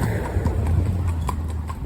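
A four-year-old cob pony in a rubber bit walks with a steady, regular clip-clop of hooves, close and distinct, continuing throughout with no talk over it.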